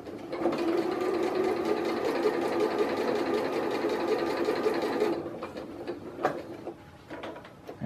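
A sewing machine stitches a cross stitch on a shoulder strap for a folding table, running steadily and loudly for about five seconds before stopping, with faint handling sounds afterward.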